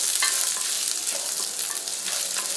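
Onion, shallots and peanuts roasting in a pan for a coriander thuvayal, stirred steadily with a continuous dry crackling sizzle and scraping, close and fairly loud, no voices.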